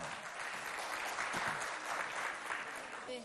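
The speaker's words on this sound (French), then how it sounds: "Asia Adoum, qu'on applaudit bien fort" A school audience at an inter-school event in Mao gives a student steady, dense applause that holds at an even level for a few seconds.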